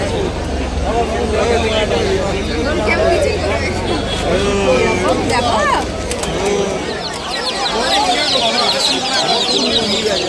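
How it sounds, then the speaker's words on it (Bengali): Chicks cluck and peep amid the steady bustle of the Galiff Street bird market in Kolkata, a dense, continuous chorus of small calls mixed with traffic noise and nearby people talking. "দেখে নাও এটা মুরগির বাচ্চা আছে"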